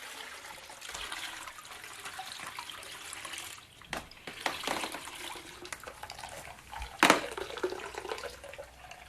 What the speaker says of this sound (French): il va tremper le tissu successivement dans les 4 bains, en commençant par le plus dense